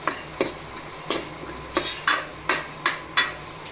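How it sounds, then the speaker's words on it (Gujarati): Onion cooks in a pan with a soft sizzle under about eight sharp, regular spatula strikes and scrapes of stirring. The sound is close, and no one speaks. "પછી તેને હલાવીને મિક્સ કરી લેશું ડુંગળીને આપણે થોડી વાર માટે ચડવા દેશું"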